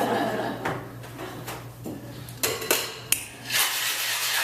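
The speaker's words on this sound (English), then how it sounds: "Shake it until it's cold." A Hemingway daiquiri of rum and simple syrup being shaken in a cocktail shaker, heard as irregular rattling clatters and knocks over a steady low hum and room noise.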